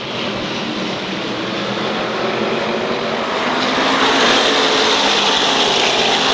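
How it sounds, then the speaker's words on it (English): SK Modified race cars roaring around the Waterford Speedbowl oval under green-flag racing, a dense, loud, continuous engine din that swells slightly louder midway as the field runs side by side. "we're back underway with green flag racing conditions, but Harry Rice a long way behind the field"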